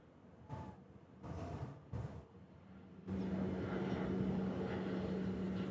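A Shorts propeller aircraft at Honolulu airport, heard as a steady droning engine hum that swells in after a few faint, separate bursts of noise and holds at moderate distance.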